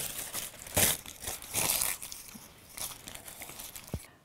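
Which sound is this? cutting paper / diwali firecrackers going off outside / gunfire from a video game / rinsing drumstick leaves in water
cutting paper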